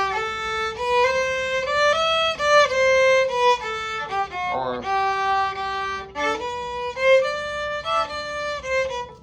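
An instrument plays quick dotted-rhythm figures reversed into triplet groupings from the Ruslan and Lyudmila overture. The bright, sustained tones run fast and continuous, with a brief scooping slide partway through and no talk.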